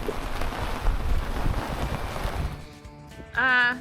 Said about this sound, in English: No, I think it's windy, too windy.